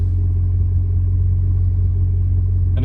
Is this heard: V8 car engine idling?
yes